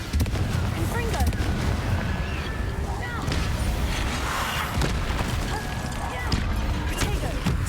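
Blasting spells and explosive magic in Hogwarts Legacy combat against Inferi: a continuous loud barrage of booms and bursts with no break, game battle noise densely layered across the whole stretch.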